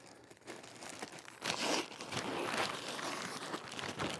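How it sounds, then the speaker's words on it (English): Masking or painter's tape crinkles and tears as it is pulled off the roll and wrapped around a rolled-up turkey skin, close and fairly quiet, in uneven bursts of rustling. "you can even take some tape, some masking tape or some painter's tape like I have right here"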